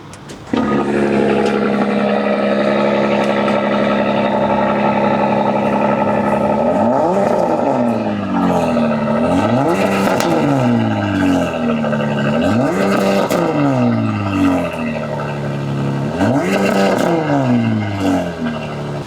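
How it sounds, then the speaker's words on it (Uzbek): A Porsche Cayenne hybrid in a showroom runs with a steady close engine hum that swells and falls in several repeated rev sweeps over the second half, with no talking. "Porsche Cayenne hozir ko'ramiz, qanchalik ovoz chiqar ekan."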